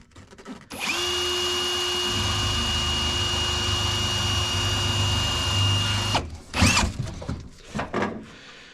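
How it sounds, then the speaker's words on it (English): A power drill, held at an angle, drives a rivet into a boat's in-seat battery box. It whines steadily and close for about five seconds, then stops, followed by a few short handling clatters. "It's a little bit tricky because you have to have the drill on an angle."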